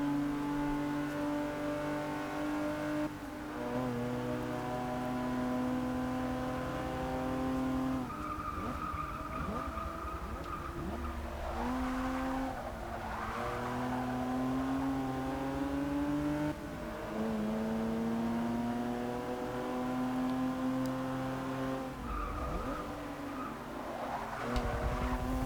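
Race car engine in Forza Motorsport 6 during stock car racing, a steady high-pitched roar with shifting revs and repeated tire squeals and skids running throughout, loud and continuous.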